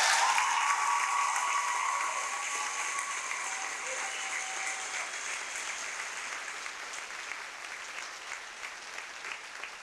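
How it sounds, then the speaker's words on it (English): A graduation audience applauds a high school band at a 1998 ceremony in sustained, full clapping that starts loud and gradually fades, with some crowd murmur beneath. "Could we have a nice round of applause for our band?"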